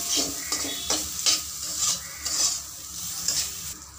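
Rice is stirred into fried carrots in a pan, a rhythmic scraping stir repeating about every half second over a soft, constant sizzle, with no voices.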